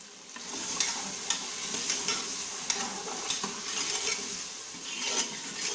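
Mutton ojhri with cloves and cardamom being stirred in a pan, a continuous low sizzle of frying broken by repeated light clinks and scrapes of the spoon against the metal.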